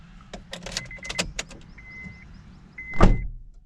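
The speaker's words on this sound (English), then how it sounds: "Typical Honda sounds when you turn the ignition on." Ignition of a 2009 Honda City switched on: a few sharp clicks followed by short electronic chime tones inside the car, ending with a louder whirring sweep.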